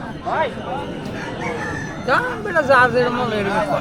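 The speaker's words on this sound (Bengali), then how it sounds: "দেশীয় প্রজাতির যে মুরগিগুলো রয়েছে মোরগগুলো রয়েছে সেগুলো বেচা কেনা হয়" A rooster crows loudly twice amid a busy rural village market in Nalitabari, Bangladesh, where native chickens are sold, with chickens clucking and people chattering nearby.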